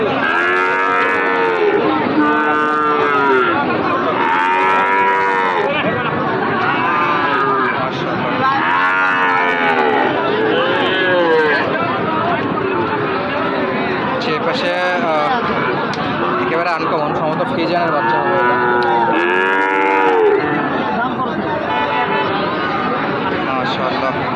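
Sahiwal cattle at a cattle market moo again and again, loud close bellows overlapping in a rough rhythm, with people talking and crowd chatter underneath.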